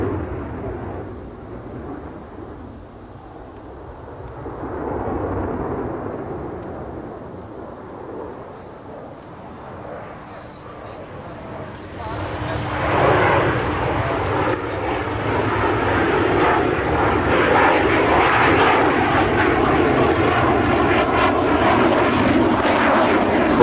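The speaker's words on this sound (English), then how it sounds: "From slow flight, he transitions to an afterburner power climbing turn to the left." A jet at the 1989 Paris air show makes a slow nose-high pass then lights its afterburner in a climbing turn, a distant rumble building into a loud, broad roar under commentary.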